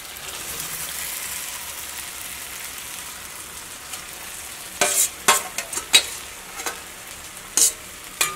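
Chicken, already fried, being stirred into a tomato masala in a frying pan for a Kerala chicken roast: a steady low sizzle, then several sharp scraping spoon strokes against the pan near the end.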